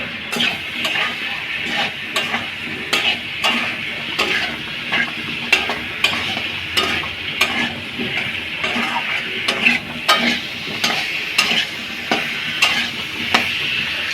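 Pointed gourd and potato curry sautéing in a pan, a continuous sizzle punctuated by regular sharp scrapes and clinks of a spatula stirring against the metal, close and fairly loud throughout.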